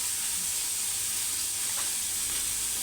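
Tempering for lemon rice sizzling in a hot pan, a steady bright frying hiss with faint stirring, close and continuous, no talk.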